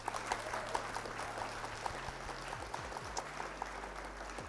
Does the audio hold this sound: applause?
yes